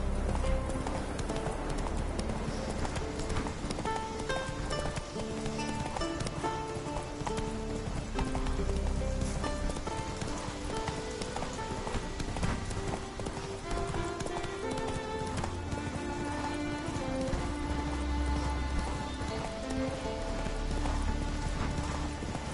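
A horse in The Witcher gallops in a fast, steady clip-clop of hooves that runs alone and continuously beneath game music.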